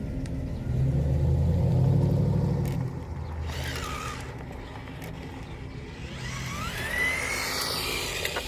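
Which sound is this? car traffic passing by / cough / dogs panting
car traffic passing by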